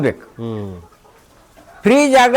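Desi chickens on a farm give a few harmonic clucks and a longer squawking call, fairly close and loud, with short pauses of quiet farmyard between them.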